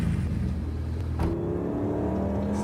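A repaired Lamborghini engine out on a joyride gives a steady, loud drone with a low rumble and a brief rise in revs partway through.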